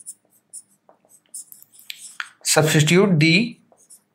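Pen or pencil writing on paper while working a maths equation, a run of faint, brief scratchy strokes before and after a short stretch of someone speaking.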